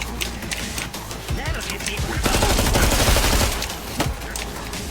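Dense gunfire from Killing Floor 2, a cooperative zombie shooter set in a snowstorm, with rapid shots and bursts piling up into a loud fusillade that peaks in the middle, mixed with game effects and voices.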